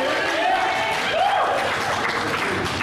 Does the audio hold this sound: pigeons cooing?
no